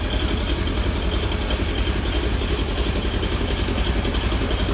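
A 2016 Polaris Ranger 900XP UTV engine idles steadily just after starting, with a close, continuous, rhythmic rumbling chug that keeps an even level throughout.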